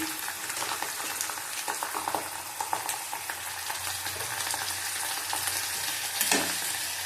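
Garlic paste and ginger paste frying in a pan for a tengra fish curry, a steady close sizzle with frequent stirring scrapes and spatula taps, no talking.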